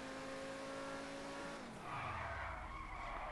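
A car driven at top speed in GTA V: a loud sustained engine tone that drops in pitch, then gives way to a rushing skid and tire squeal with crackling exhaust, heard alone.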